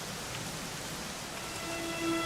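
Rain falling in the video game Dragon Quest 11: a steady, even hiss of rainfall with a faint tonal music note entering near the end and no speech.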